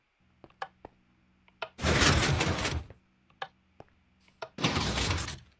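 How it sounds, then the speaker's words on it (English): A Minecraft 3x3 piston door driven by a double piston extender, sharp clicks and two bursts of loud hissing piston movement, with isolated clacks before and between them. "these two pistons will essentially activate your double piston extender, which will retract the last block, the center block of your piston door."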